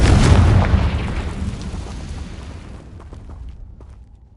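A Confringo blasting curse explodes in Hogwarts Legacy, a single loud deep boom with a rumbling burst that fades out over several seconds.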